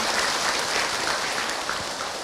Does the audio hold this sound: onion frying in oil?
no